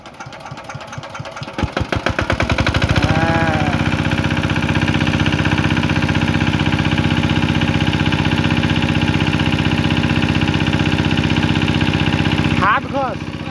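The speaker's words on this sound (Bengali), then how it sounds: "হ্যান্ডেল এখানে আছে রানু ভাই এবার স্টার্ট মারবে" A hand-cranked engine that had stood idle for about a year is turned over with a few rapid chugs, then catches and settles into a loud, steady knocking idle close by, with voices briefly heard over it.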